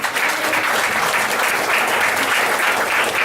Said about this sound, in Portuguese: quem crê, dê uma salva de palmas ao Senhor